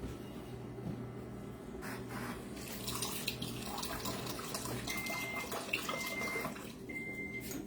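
Cold tap water runs steadily from a kitchen faucet into a liquid measuring cup, a continuous splashing flow heard close up and alone, with a few faint clinks partway through.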